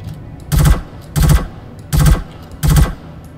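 Gunfire in the space game Star Citizen: four loud, close bursts of rapid automatic shots, each about half a second long and evenly spaced, with short gaps of quiet between them.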